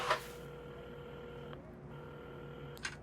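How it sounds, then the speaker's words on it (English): Faint, sparse telephone dialing tones, a few short beeps spaced apart at a shop counter in a quiet room. "at the counter, Carmen had started dialing the phone"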